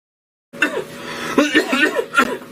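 A person coughs and then gives a few short, breathy bursts that sound partly like chuckling, close to the listener after a moment of silence.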